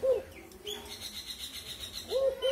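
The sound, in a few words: pet dove calling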